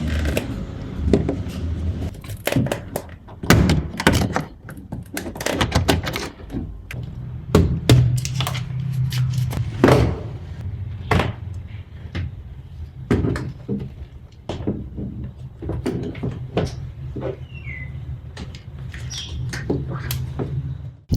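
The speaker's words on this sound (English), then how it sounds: "Get a trim opener or something sharp, and then we slot between the plastic door panel and the metal body." A trim opener prying a plastic door panel off the metal body of a Kia Cerato rear door, giving a series of sharp plastic snaps, clicks and scrapes in irregular bursts at close range.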